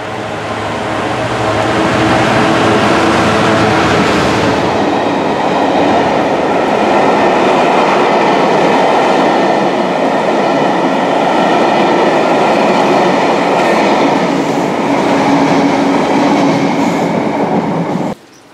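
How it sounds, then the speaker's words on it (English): Royal Scotsman luxury train hauled by a GBRF Class 66 diesel locomotive passing through Markinch station, a loud sustained roar of diesel engine and rolling wagons heard from under a footbridge, fading out at the end. "Operated by Belmont using GBRF Class 66 diesel locomotives, that was the Royal Scotsman that passed through Markinch"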